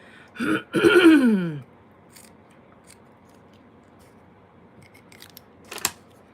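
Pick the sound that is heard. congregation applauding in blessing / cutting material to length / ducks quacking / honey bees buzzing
cutting material to length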